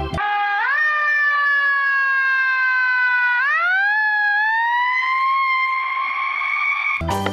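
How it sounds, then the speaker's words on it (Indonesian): A toy fire truck siren wails loudly and close up, its electronic tone sliding in slow rising and falling sweeps for several seconds before cutting off abruptly. "Ini adalah mobil damkar."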